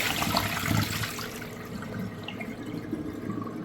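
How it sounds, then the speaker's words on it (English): A Briggs Pennton washdown urinal from the 1970s to 1990s flushes, water rushing loudly at first and then settling into a steady, gentle wash and trickle, heard close with no talk. "Let's have a look at a flush now."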